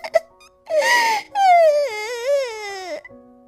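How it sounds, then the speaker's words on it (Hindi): A crying voice in a forest scene of a Hindi cartoon story, a wavering, drawn-out wailing sob after short whimpers, loud and close with no other sound around it. "तभी उसे रोने की आवाज आती है।"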